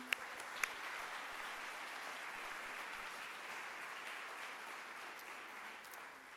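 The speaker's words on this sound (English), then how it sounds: "A big round of applause for all of our associate faculty." Steady, sustained applause fills a college convocation hall for the associate faculty, an even, distant-sounding wash of many hands clapping with a couple of sharper claps near the start.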